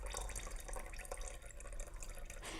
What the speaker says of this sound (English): We're now going to pour our mixture of white paint in there